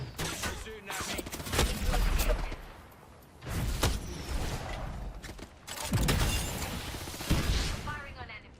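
Video game gunfire in repeated bursts of loud rattling shots, separated by brief lulls, with a voice talking over parts of the action.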